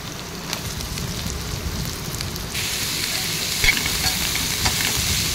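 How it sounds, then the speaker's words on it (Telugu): Beetroot pieces frying and being stirred in a pan, a steady close sizzle with scraping stir strokes that grows slightly louder partway through, no talking over it. "ఇవి కొంచెం వేగిన తర్వాత కట్ చేసి పెట్టుకున్న బీట్రూట్ ముక్కలు వేసేసుకోవాలి."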